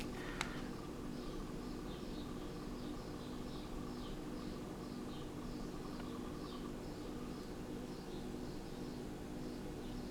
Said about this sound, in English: The birds are noisy out there today.